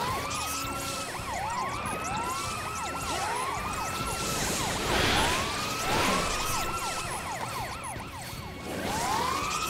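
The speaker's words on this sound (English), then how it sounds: "You use sirens to rescue each other." Rising and falling wailing sirens from enemies in the video game Final Fantasy XIII repeat continuously in overlapping sweeps over game background noise, steady and fairly loud, with no talk.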